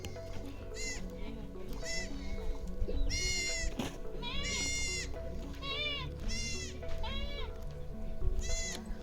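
Goats bleat repeatedly, several wavering cries rising one after another over a steady rustling outdoor background.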